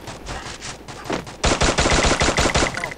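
Rapid bursts of gunfire crack sharply, sparse at first and then a dense volley of loud shots, with the clipped, punchy quality of game audio.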